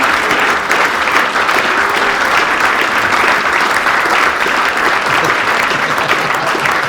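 Loud, dense applause from a carnival crowd at a Fasnacht show in Ettingen, a continuous roar of clapping that stays even and close throughout.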